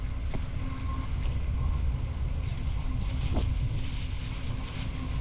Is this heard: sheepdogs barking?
no